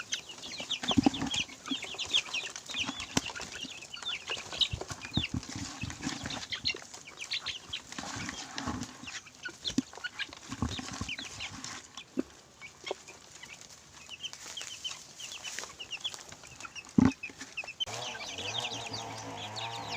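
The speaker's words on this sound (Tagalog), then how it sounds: "So ito yung mga sisiw natin." Chicks with fowl pox peep and cluck at feeding time, and a few rooster and hen calls carry over a busy, continuous chorus of farm birds, with some faint talk in the background.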